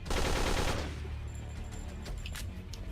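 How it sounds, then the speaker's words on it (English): Rapid burst of automatic gunfire from a weapon in a video game, loud and dense at the start and then fading into a few scattered shots and clicks over about three seconds. "I can actually continue shooting."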